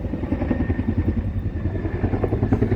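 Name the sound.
military helicopter flying overhead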